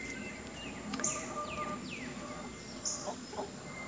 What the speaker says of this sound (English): They're so sweet, little peepers.